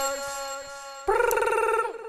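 A ringing telephone effect rings out inside a trap rap song, with steady tonal rings giving way after about a second to a louder, denser stretch of the track.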